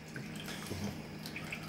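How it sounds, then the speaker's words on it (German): Water splashing and trickling inside a small aquarium media reactor container, a steady soft burbling with light drips, close and fairly quiet. "weil jetzt habt ihr ja im Endeffekt mehr oder weniger immer dieses Plätschern gehört"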